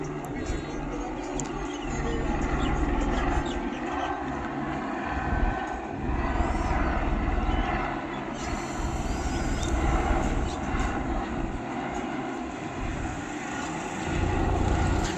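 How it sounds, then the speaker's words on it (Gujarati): A rescue helicopter flies over a paragliding launch area at Bir Billing, a steady distant engine drone that stays constant throughout with faint outdoor ambience beneath it. "હેલિકોપ્ટર આવી ગયું છે"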